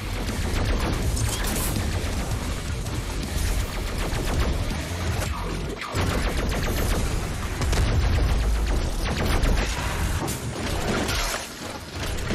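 Rapid, dense gunfire in the shooter game Doom Eternal, loud and continuous, with rattling mechanical weapon sounds and bursts of shots running almost unbroken, with no talking.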